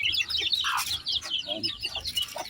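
Backyard chickens with newly hatched chicks clucking and peeping in a steady chatter of high chirps and soft clucks, close by, with a voice talking briefly among them.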